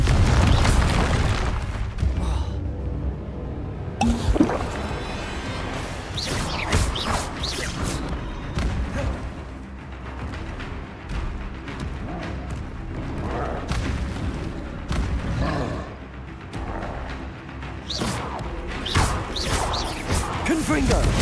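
Repeated Confringo fire spells burst in Hogwarts Legacy combat, booming blasts and whooshes crowding a dense, loud battle mix with shouted incantations over it.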